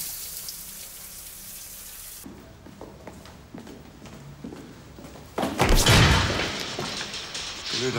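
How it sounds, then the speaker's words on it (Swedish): An indoor shower runs with a steady hiss of falling water, joined by knocks and thumps, and it swells louder for a moment before easing off. "Stäng av duschen."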